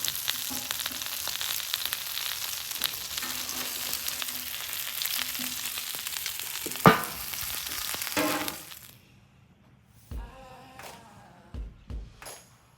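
A quesadilla made with leftover cheesesteak fries on a flat top grill, giving a steady, close, loud sizzle for about eight seconds that then cuts off, followed by a few brief clatters in near quiet.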